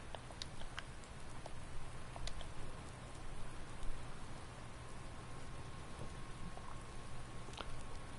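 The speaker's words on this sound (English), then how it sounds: "It's been raining for quite some time now, hasn't it?" Steady, faint rain falls in a farming video game, a soft continuous patter of drops with an even hiss and no voices.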